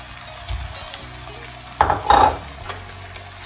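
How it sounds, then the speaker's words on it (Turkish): Boiled eggplant and peppers tipped into a pan of fried mince, then stirred, with low sizzling throughout and a couple of louder clattering bursts of vegetables and spoon against the pan. "Şimdi haşladığım patlıcan ve biberlerimi ilave ediyorum."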